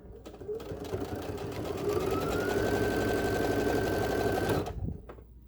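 A sewing machine runs steadily for about four seconds, stitching binding onto a quilted wall hanging with a slightly long stitch, a fast even whirring hum that starts and stops cleanly.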